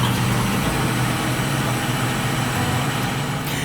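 A tractor idles with a steady low engine rumble while the cutting units of a SaMASZ KDD 941 STH disc mower are lowered, the sound close, loud and unbroken.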